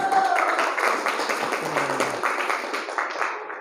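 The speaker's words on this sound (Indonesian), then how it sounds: "Beri tepuk tangan" A classroom group claps after a presentation, a few seconds of moderate, fairly even applause fading slightly toward the end.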